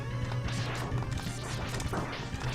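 A loud crash and thwack of a vehicle smashing, against a dense, noisy background with a steady low hum.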